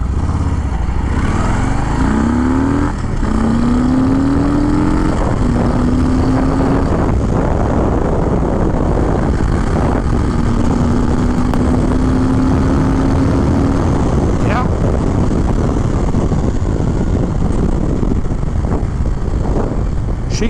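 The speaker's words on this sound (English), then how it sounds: "Oh, and the exhaust note, you gotta love it." A car launches hard from a standing start at Dead Man's Corner, its engine and exhaust roaring loud and close, with the revs climbing in two rising sweeps through the gears over a steady, dense mechanical rumble.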